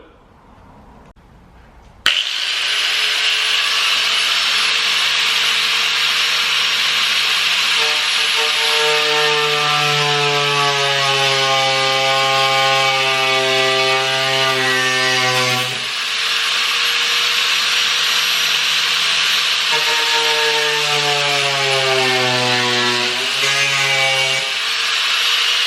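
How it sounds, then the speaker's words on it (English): An angle grinder with a cutoff wheel starts abruptly and cuts into a part on a Subaru WRX, a loud, sustained high whine that dips and rises in pitch as the wheel bites and loads up, with no talk. "got my angle grinder with the cutoff wheel"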